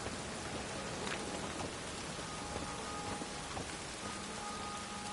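Heavy rain falls steadily onto surfaces, a dense continuous hiss with scattered close drop taps and a low rumble underneath, with no voices.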